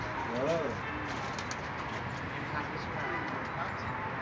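Pigeons cooing softly in the background, a few low warbling coos early on, beneath outdoor ambience with people talking nearby.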